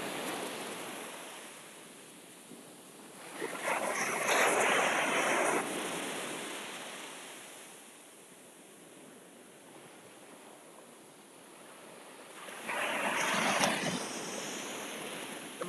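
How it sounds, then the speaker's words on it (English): Ocean waves crash on a shore at sunrise in two broad, roaring surges separated by a softer steady wash, heard from nearby with no talking. "let's see if we get close to the crashing waves"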